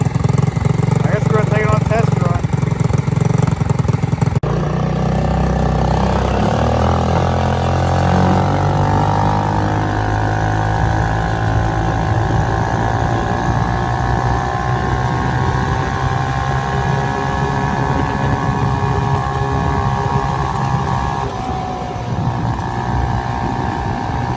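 Loud, raspy running of a Yerf Spiderbox GY6 kart engine with the muffler removed, first revving hard, then settling into a rising, wavering drone that continues throughout while a person talks over it.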